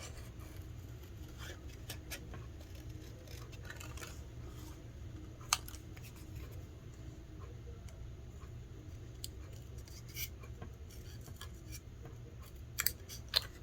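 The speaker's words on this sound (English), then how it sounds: "Cut another one out and then cut them in half." Scissors cutting out paper shapes for a stamped card project: faint, intermittent snips over a low background hum, with a few sharper clicks near the end.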